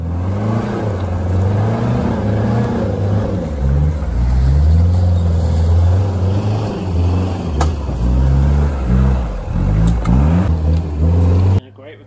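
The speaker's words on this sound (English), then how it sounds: "Recovery from this 3-litre turbo Land Cruiser." A 3-litre turbo Land Cruiser competes at an off-road comp safari at Brick Kiln Farm, its engine loud and close, revving up and down repeatedly as it works through rough ground for several seconds.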